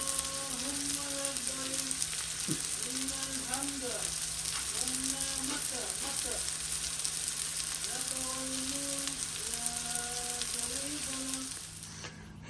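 Garlic and onion fry in a pan with a steady, close sizzle that holds for most of the time, while someone speaks and a tune plays faintly behind, before the sound drops away at the end.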